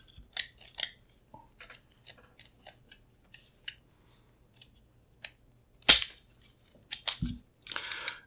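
Metal parts of a Sig P210 pistol being handled as the barrel is lifted in and out during disassembly: sparse, sharp little clicks and clacks, close and clean, with a louder metallic clack near the end.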